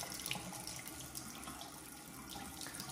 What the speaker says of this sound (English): You can turn them on and watch the water flow out.